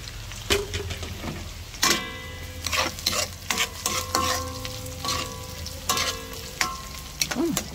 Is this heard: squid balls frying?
yes